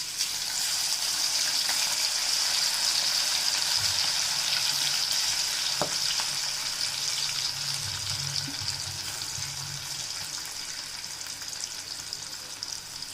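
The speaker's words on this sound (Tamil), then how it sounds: "இப்போ நம்ம எடுத்து வச்ச சிக்கனை போட்டுருவோம்." Chicken pieces fry in hot oil for a shawarma with a loud, constant hiss and crackle that carries on without a break, and one sharp clink partway through.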